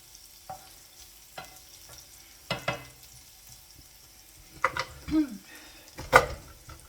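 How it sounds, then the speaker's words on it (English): Onions frying in a hot frying pan are stirred, giving a low steady sizzle with occasional scraping strokes and a few clinks of utensil on pan, the stirring coming in short bursts, mostly quiet and close. "Just going to stir the onions that are in there so they don't burn."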